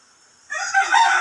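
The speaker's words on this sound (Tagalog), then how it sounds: "tumitilaok na yung manok" A rooster crows loudly and close by on a cold early morning, one drawn-out call of about three quarters of a second that starts abruptly after a near-silent pause.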